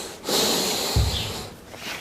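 Nose breathing during a hiking leg-strength workout, a close, rushing inhale followed by a forceful exhale with a brief snorting burst, then a softer breath trailing off.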